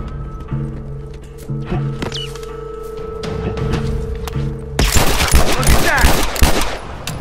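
Mounted turret gunfire in The Last of Us at a lakeside, opening amid steady game music and rising into a loud, dense burst of rapid shots in the final seconds.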